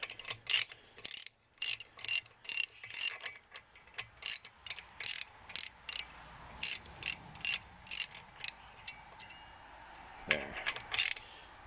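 A hand ratchet clicks in repeated short bursts while turning a part into engine threads during a Penguin engine teardown, the sharp clatters falling in an uneven rhythm close by with brief pauses between strokes.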